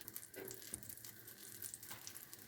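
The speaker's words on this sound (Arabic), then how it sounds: "دابا من بعد ما دابت لي هاد الزبده غادي ندير هاد الكريب باش نحمرهم هنايا في المقله." Filled savory crepes frying in melted butter in a pan, giving a soft, steady sizzle with light crackles throughout, faint and close, with no talking.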